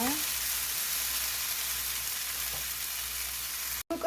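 Onions and potato strips stir-fry in a pan with a steady, close, dense sizzle that runs throughout and breaks off briefly just before the end.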